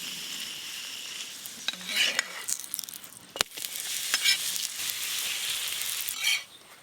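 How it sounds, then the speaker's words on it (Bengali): A paneer paratha sizzles steadily in hot oil in a pan, a continuous frying hiss with a few utensil clicks and scrapes on top, close and moderately loud. "আবার একটা পরোটা ভেজে নেব।"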